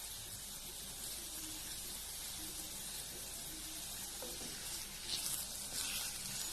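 Okra cooking under a lid in a pan gives a faint, steady sizzle and hiss. Light clinks come in near the end.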